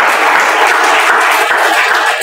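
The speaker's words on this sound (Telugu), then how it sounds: "సార్కు ఒకసారి గట్టిగా చప్పట్లు కొట్టండి." An audience claps loudly and continuously at a business meeting in Nizamabad, a dense, close burst of applause with no voices over it.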